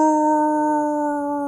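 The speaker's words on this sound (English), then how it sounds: "Raises his muzzle to the moonlit sky and howls." A werewolf raises its muzzle to a moonlit sky and lets out a single long, steady howl, loud and close, alone with no other sounds.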